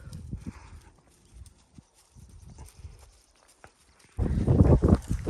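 Cows in a herd walking home from pasture, hooves clopping and shuffling close by in an uneven rhythm, turning much louder and denser near the end as the animals crowd past.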